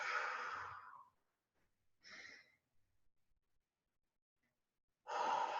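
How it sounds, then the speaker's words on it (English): Deep, slow centering breaths taken close to the mic, a long audible exhale, a shorter breath a second later, quiet pause, then another full breath. "Let's take some deep centering breaths."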